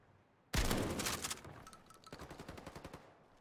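A German MP40 submachine gun fires in a World War II shooter match, with a sudden loud burst followed by a quieter stream of rapid shots that fades out.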